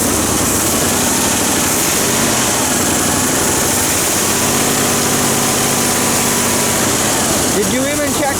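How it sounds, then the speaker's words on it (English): A 1965 Ford Mustang barn find, parked for 13 years, runs at a loud, rough idle just after a cold start, with a steady close engine drone throughout and a person talking over it near the end. "Here's a cold start."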